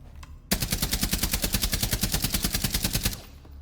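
A UMP45 submachine gun in Rainbow Six Siege fires one long, steady full-auto burst of about twenty-five rapid, evenly spaced shots, loud and close, ending abruptly.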